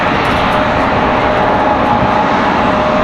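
A Southwest Boeing 737-800 arrives at Raleigh-Durham airport, its jet engines producing a loud, close, unbroken roar that holds steady through the short span, with no talking.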